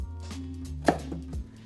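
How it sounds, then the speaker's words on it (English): Knife slicing Japanese sweet potato (satsumaimo) into rolling rangiri chunks on a cutting board, a single sharp chop in the middle over a low background hum, with faint softer knife contacts around it. "Rinse, cut off the ends, and cut into a rangiri."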